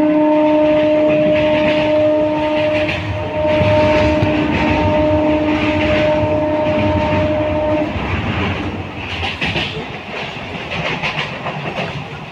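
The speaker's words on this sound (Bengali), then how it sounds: "লোকাল ট্রেন কিন্তু ভোরবেলায় এক্সপ্রেসের মতো ছুটছে" Early-morning local train running fast with a long horn whistle, a sustained tonal blast over loud rumbling and clickety-clack of wheels on rails, close by and continuous.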